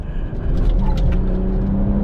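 A BMW 1M sports car's engine drones steadily as it laps a race track, a sustained, fairly loud mechanical hum with a low rumble and little change in pitch.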